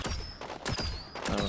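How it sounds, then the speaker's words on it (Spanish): Semi-automatic gunfire in the video game Plants vs Zombies Garden Warfare 2, with repeated loud shots in a steady rhythm against busy game sound effects. "Este tiene el disparo semiautomático."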